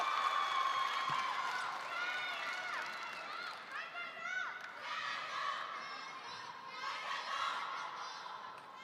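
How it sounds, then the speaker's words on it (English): A large arena crowd at the 2017 Qatar Open men's table tennis final between Ma Long and Fan Zhendong, with rhythmic battle chants and cheering in steady waves. A commentator talks over the crowd. "We got battle chanting in the crowds right now"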